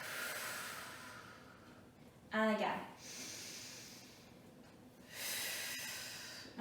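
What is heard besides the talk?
deep breath in through the nose, exhale through the mouth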